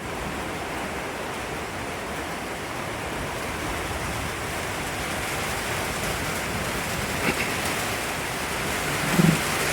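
Steady rain at Konglak in Sajek during a thunderstorm, a dense continuous hiss of drops hitting surfaces that holds nearly constant for the whole stretch, with a brief louder bump near the end.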